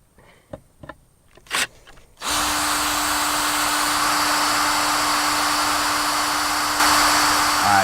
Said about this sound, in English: So we're going to go ahead and get this hole drilled